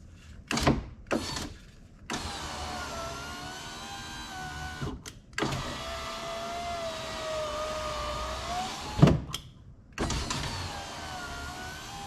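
Replacement electric window motor in an 8th-generation Honda Civic run up and down, a close whining hum with pitch shifts as the glass travels, broken by sharp clunks as it stops and reverses.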